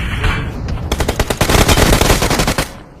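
Automatic gunfire in the mobile game PUBG, a loud, close, rapid burst of shots lasting about two seconds.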